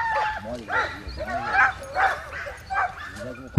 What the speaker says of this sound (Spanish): perseguido por lo que parece al menos una docena de perros